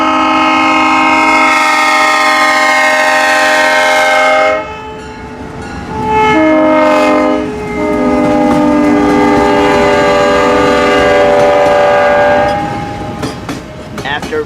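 Nickel Plate Road steam locomotive NKP 765 passing close by, its loud chime whistle sounding in long sustained blasts with brief breaks, over the rolling rumble and clatter of the train.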